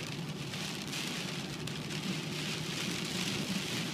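Heavy rain pours onto a car windshield, heard from inside the parked car as a steady, dense patter and hiss that stays constant throughout.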